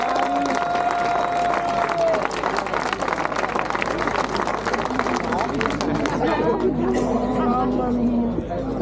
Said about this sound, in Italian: Eccoli qua, un bel applauso